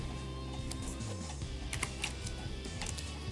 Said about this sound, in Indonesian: Saya tidak akan copy tapi saya akan mengetik seperti di sini